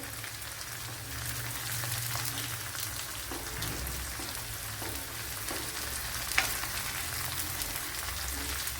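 Curry leaves fry in hot oil for cucumber moru curry, a dense, even crackling sizzle like light rain that holds steady throughout, close up with one brief sharp pop.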